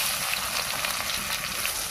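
Onions with bay leaf frying in very hot oil, a loud, continuous close-up sizzle with faint stirring movements under the crackle, and no one speaking.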